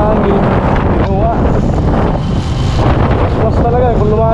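Strong wind roars steadily across an outdoor spot beside floodwater in Bacolod, buffeting the microphone loudly throughout, with people talking over it.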